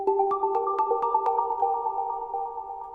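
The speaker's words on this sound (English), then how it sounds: "they happen to have a pluck that sounds like this" A plucked synth patch from a Zeta Plus synthesizer plays a slow melodic run of bright, short-attack notes that ring into sustained tones with long decaying tails, calm and alone with no talking.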